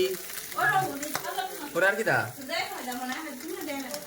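Small puti fish fry in a pan with a crackling sizzle, partly covered by people talking nearby throughout.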